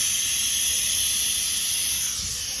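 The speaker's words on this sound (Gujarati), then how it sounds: "કુકરની સીટીઓ વાગે છે" A pressure cooker on the stove lets off steam while potato poha cooks, giving a steady, moderately loud hiss that holds unbroken for a few seconds and eases slightly at the end, with no voices.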